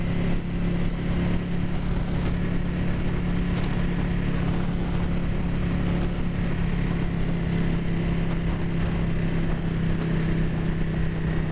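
A Ducati 959 Panigale motorcycle engine drones steadily while riding on a hot day, a continuous loud hum with constant road and wind noise and no clear revving.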